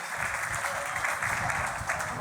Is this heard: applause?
yes